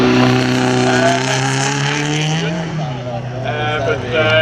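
A gigantic Rolls-Royce 27-litre V12-engined car at a sprint event, with spark plug and gearing trouble, roars loud and near in a deep steady drone that drops in pitch midway, then climbs again.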